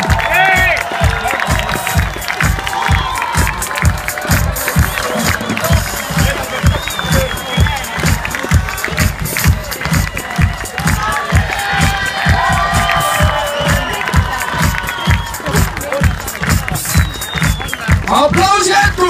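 Crowd at a women's mud wrestling event in 2014 applauding and cheering loudly and steadily, with rhythmic clapping throughout and shouts rising above it, close and continuous.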